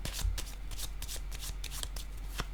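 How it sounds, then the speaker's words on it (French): Tarot cards being shuffled and set down during a reading, a steady run of close, crisp riffling and soft slaps that carries on without a pause. "Je vais déposer encore une carte sur l'ermite."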